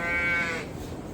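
A single sheep bleats close by inside a main barn housing Suffolk and Dorset breeding groups, a short wavering call that fades into quieter barn background.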